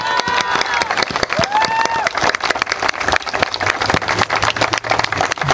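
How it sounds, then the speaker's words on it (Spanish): A crowd at a PRI party leadership swearing-in ceremony in Gómez Farías breaks into sustained applause, dense clapping with some cheers and whistles, loud and continuous throughout. "desde aquí le enviamos un caluroso aplauso"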